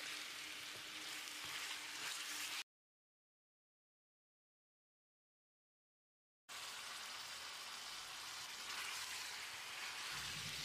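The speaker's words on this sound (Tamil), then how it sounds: "இதை போட்டு மறுபடியும் 1 நிமிஷம் ஃப்ரை பண்ணி விட்டுறலாம்." Chopped tomato sizzles and fries in a pan for chicken gravy, a steady hissing crackle that cuts out to silence for a few seconds and then resumes.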